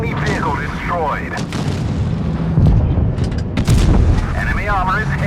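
Tank cannon shots and shell impacts in WoT Blitz with a Tier 10 WZ-121, deep booming blasts repeating across the clip, mixed with whooshing game effects and a voice speaking over the action.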